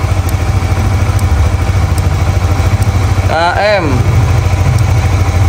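A 2016 Honda CRF motorcycle idles steadily while warming up, a close, even thrumming with a brief tonal sweep in the middle as someone speaks.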